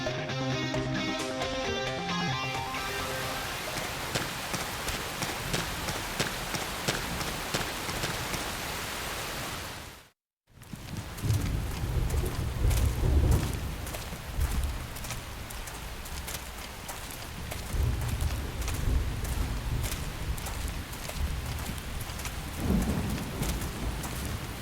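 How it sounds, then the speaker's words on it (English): Heavy steady rain in Xenoblade Chronicles X, a dense loud hiss with rumbles of thunder; music plays at first, then after a brief silent gap the downpour returns alone with low rumbling. "The rain's starting to let up, just in time for sunrise"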